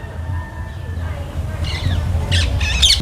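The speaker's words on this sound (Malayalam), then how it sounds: "ഇവിടെ എല്ലായിടത്തും തത്തമ്മ ശബ്ദം മുഴുവൻ കേൾക്കാണ്ട്" A few harsh bird squawks, like parrots, burst out near the end over faint background noise, growing louder and closer.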